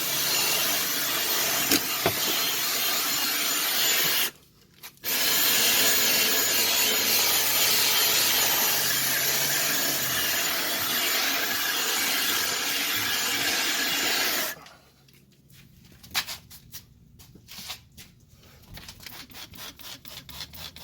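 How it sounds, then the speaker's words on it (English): A steady, dense drill brush scrubbing whir on a Toyota Camry interior runs for most of the clip, pausing briefly once, then stopping into quieter scattered rustles and clicks near the end. "We're going to use the drill brush."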